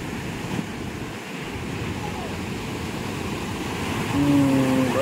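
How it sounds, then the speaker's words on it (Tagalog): Big ocean waves in stormy weather roll and crash in a steady roar, with wind buffeting the microphone and the surf surging louder toward the end. "Well, malaking alon pa naman."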